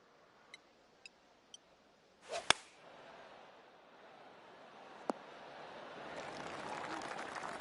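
A golf ball is struck in the video game PGA Tour 2K23: one crisp, sharp club impact follows a few faint ticks, then quiet crowd ambience slowly swells afterward.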